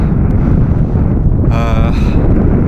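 Strong, biting winter wind on a Scottish hill roars continuously across the microphone, a dense buffeting rush with spindrift; a faint voice briefly rises partway through.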